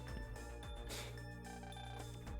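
A repeating electronic phone ringtone from the video game Megaman Star Force 3: Red Joker, a steady, loud melodic trill with game music underneath, heard alone without speech.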